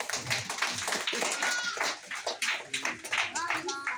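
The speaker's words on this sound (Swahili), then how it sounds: "Wapi makofi ya Profesa?" An audience claps for a professor at a lively acrobatics and comedy show, a burst of close, uneven hand claps mixed with excited voices and chatter.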